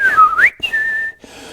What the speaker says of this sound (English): You can tell that that's a whistly bird.